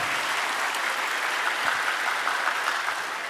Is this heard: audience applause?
yes